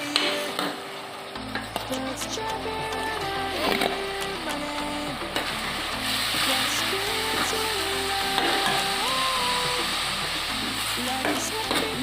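A spoon stirs and scrapes as corn flour is mixed into boiling water in a pan for corn upma, the stirring continuous and close beneath melodic background music.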